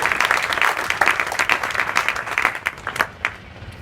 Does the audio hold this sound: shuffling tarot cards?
no